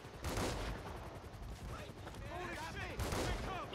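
Weapon gunfire in GTA Online on a snowy Christmas map: dense, rapid bursts of shots, loud and sustained, with a voice speaking briefly under the firing.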